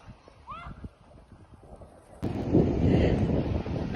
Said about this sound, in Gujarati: વાવ, બહુ જ મસ્ત પવન છે.